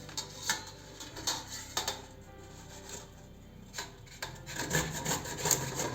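A hand grater shreds a peeled bottle gourd in uneven rasping strokes, close and moderately loud, with brief pauses between the scraping passes.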